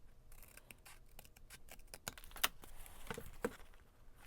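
Scissors trimming paper for a no-sew junk journal, a quick run of close, crisp snips with small rustles and clicks, heard alone without talk.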